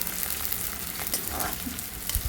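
Edible gum (dink) fries in hot ghee for methi and dink ladoo, a steady close sizzle and crackle with a few soft stirring sounds and no talk.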